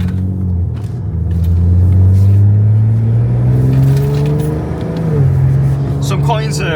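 A BMW G80 M3 or G82 M4 with a DCE titanium equal-length X-pipe catback exhaust and catless downpipe cruises onto a highway in efficient mode, a loud, steady low engine drone rising and falling with gear changes.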